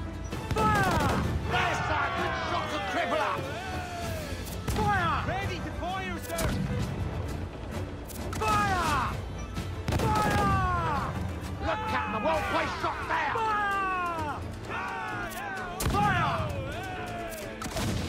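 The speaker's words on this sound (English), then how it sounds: "That final volley of mortars disabled the enemy ship, but they still fired their mortars," Ship mortar volleys in Assassin's Creed Black Flag naval combat, repeated heavy booming shots and crashes in irregular bursts, with whistling projectiles and shouting voices throughout.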